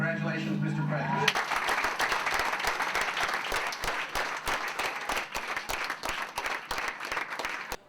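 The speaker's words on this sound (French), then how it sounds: "Une salve d'applaudissements" Audience applause breaks out right after a US presidential oath of office is sworn at an inauguration watch event at a business school in Paris, a dense, steady wave of clapping following a brief moment of speech.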